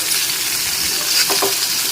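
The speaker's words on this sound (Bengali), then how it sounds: "এবার আমি দু মিনিট সময় নিয়ে মিডিয়াম ফ্লেমে রেখে ভেজে নিচ্ছি" Okra frying in a pan on a medium flame, a dense continuous sizzle with a couple of brief stirring scrapes, close and steady, no voices.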